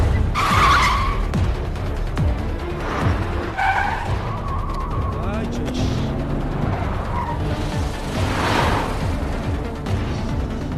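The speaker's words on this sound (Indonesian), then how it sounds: "lalu Kyung-ho nancap gasnya dan akhirnya jadilah aksi kejar-kejaran." Film car chase with speeding cars, a loud, busy mix of tire squeals and skids, revving engines and rushing motion, with bursts of screeching over a constant roar.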